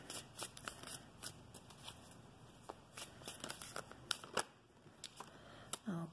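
Tarot cards being shuffled by hand: soft, quick riffling clicks and papery flutters in irregular bursts, faint and close, with no talking.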